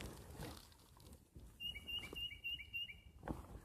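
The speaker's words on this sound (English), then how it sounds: "I hope you heard that bird." A bird calls outdoors at a nature reserve on a windy day: a quick series of about five clear, high, evenly spaced notes rings out loudly over a soft rustling background.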